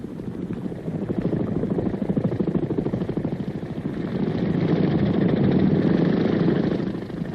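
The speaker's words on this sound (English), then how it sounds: "the big CH-46 helicopters that bring in the ammunition, food, and water" A steady, loud CH-46 military helicopter engine drone with a rapid rotor chop, continuous throughout at close range and no voices.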